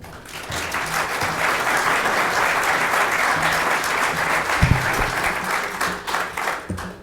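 A conference audience applauds to welcome lecturer Raphael Bostic, a dense, steady clapping that swells quickly, holds for several seconds, then thins out into scattered claps.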